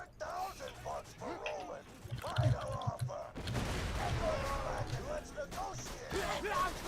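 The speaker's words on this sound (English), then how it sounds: "I think it's just all explosions" Rumbling booms and blasts of explosions in the video game Borderlands swell into a loud continuous roar, with a voice talking over the top.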